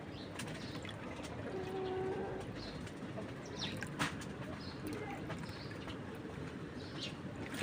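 Pigeons, two of them females climbing higher, give faint cooing and brief wing flaps over a steady noisy outdoor background.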